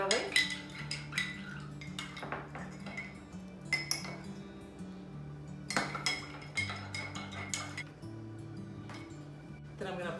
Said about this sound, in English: I'm going to stir this until it's combined thoroughly